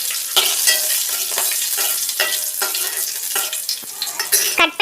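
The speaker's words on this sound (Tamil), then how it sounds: "நீல வாக்கில் கட் பண்ணி வச்சுருக்க பச்சை மிளகாய் இதில் ஆட் பண்ணிக்கிறோம்" Sliced green chillies sizzle loudly in hot oil in a pan, with repeated scraping strokes of a spoon stirring them at a steady rhythm.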